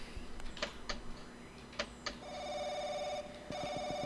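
A telephone rings inside the horror video game Paranoiac, starting with a few scattered clicks and knocks before a steady electronic ring tone sounds in bursts, loud and close.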